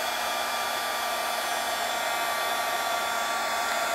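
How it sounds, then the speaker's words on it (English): A heat tool blows a steady, close hot-air hiss while embossing fine white powder on a snowflake card, constant and uninterrupted with no voices. "using my heat tool."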